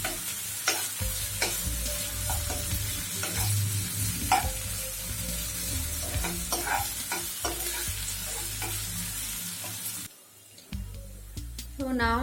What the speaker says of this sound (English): Cook the onion till it becomes golden brown.